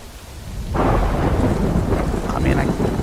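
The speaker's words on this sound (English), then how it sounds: "Oh, the rain came, so they turned back." Heavy rain and a thunder rumble in the Death Stranding video game (2019): a steady downpour starts abruptly after a quiet moment and then holds loud and dense, with a low roll of thunder beneath it.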